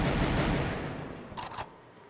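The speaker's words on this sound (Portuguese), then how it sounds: "O Bach vai tomando muito tiro aí do Strong" Gunfire in a competitive esports shooter match: a dense automatic fusillade fades out, then a short burst of rapid shots rings out more faintly, with no voices over it.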